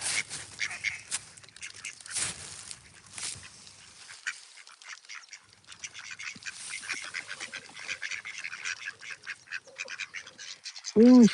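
A mother duck and her ducklings quack close by outdoors, with scattered irregular calls throughout and a louder honking quack at the end.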